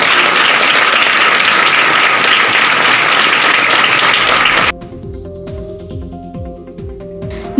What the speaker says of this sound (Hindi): सब बच्चे एक बार तालियां बजाएं।